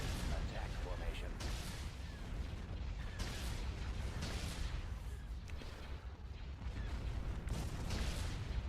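Space battle weapons and laser cannons fire in the Thrawn's Revenge game, a dense, constant barrage of booming blasts and rumbling explosions with no pauses, loud throughout.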